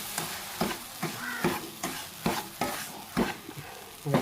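Rava unda mixture with cardamom being stirred in a pan, with rhythmic scraping strokes about every half second over a light sizzle, close and loud with no voices.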